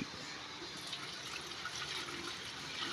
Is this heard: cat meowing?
no